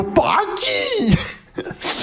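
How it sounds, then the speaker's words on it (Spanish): A sudden, forceful human sneeze bursts out near the mic amid vocal noise, followed by another short nasal outburst, set in a gaming room beside a PC and a PlayStation 5. "Puede que haya otro estornudo."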